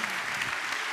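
Audience applause at a corporate conference session in Paris, a steady wash of clapping from a room of listeners, fairly even and moderately loud for about a second.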